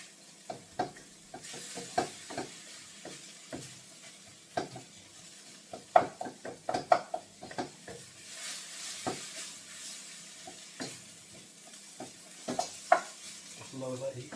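Garlic and ginger stirred and frying in a pan for lamb gosht, with a soft sizzle beneath repeated scraping and clinking of a utensil against the pan in an uneven rhythm, fairly quiet and close.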